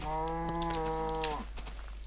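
Cows mooing in a Minecraft-style video game, one long, loud, drawn-out moo with a falling tail, followed by faint clicking, with no talking.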